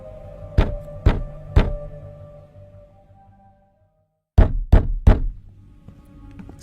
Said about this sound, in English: Sunny was pulled from his thoughts by a loud banging at the door.